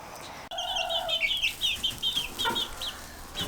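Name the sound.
chickens clucking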